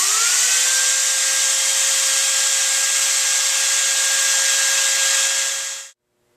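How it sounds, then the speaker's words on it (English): A foam saw cuts steadily through a block of foam to trace an outline, giving a loud, continuous high-pitched whine with a sustained tone that rises briefly at the start and then holds for about six seconds before stopping abruptly. "next we will use the foam saw to cut out our outline"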